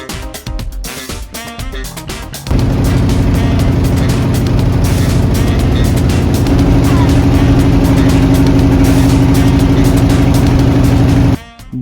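A motor boat's engine drones loud and steady on a lake journey, with a rougher idle at the start before the hull settles into a constant heavy rumble close by, then the sound cuts near the end.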